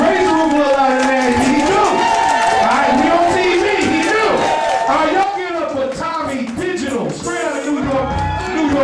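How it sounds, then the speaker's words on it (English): Comedy club audience cheering and clapping for a comedian as he is introduced, a loud, dense crowd roar with whoops and continuous claps, while a host talks over it. "I'm clapping for him right now."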